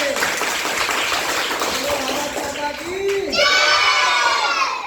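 A class of schoolchildren bursts into clapping and excited shouting in a classroom, a lively burst of noisy cheering with a teacher's voice over it.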